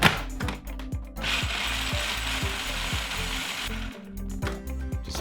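A food processor pulses toasted walnuts, giving rhythmic mechanical clicks and whirs at the start and end around a steady chopping burst in the middle, close and alone.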